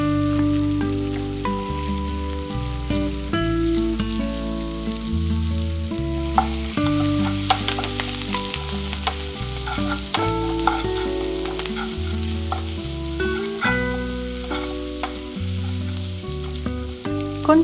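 Small onions and curry leaves fry in oil with popped mustard seeds, a steady crackling sizzle with scattered pops and stirring, heard under background music throughout.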